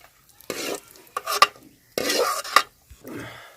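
Cashews fry in oil in a pan while making kesari bath, stirred in short separate bursts of close scraping and sizzling, with quiet gaps between strokes.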